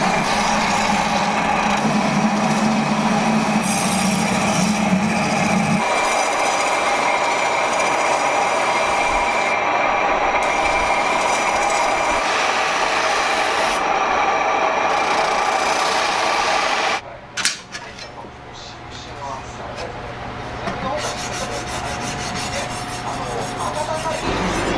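A knife's cutting edge is rubbed back and forth on a diamond whetstone during final fine-grit sharpening by a traditional knife maker, giving a steady rasping scrape that runs on for a long stretch, then changes abruptly and continues more quietly.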